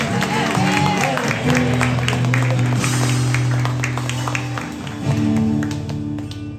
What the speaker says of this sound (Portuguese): Aplauda a mão do Senhor.